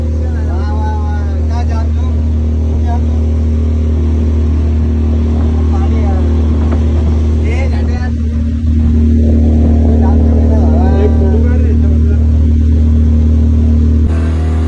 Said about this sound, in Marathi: ब्रिज वरून गाडी जात आहे, खालून कशा बोट जाते